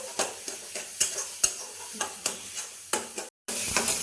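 A spoon scrapes and knocks against a pan in a rhythm of repeated strokes while spice masala and vegetables sizzle softly underneath, close and fairly quiet, with one brief dropout.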